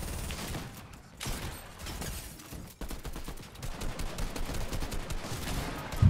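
Shotgun blasts and other gunfire in a Fortnite match, a dense run of sharp repeated shots with brief gaps, loud and close.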